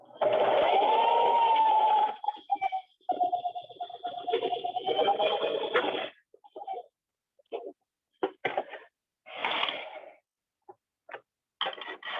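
A sewing machine stitches a seam on a LARP hood. It runs steadily for about six seconds, then stops and gives way to short bursts of quieter handling and movement sounds.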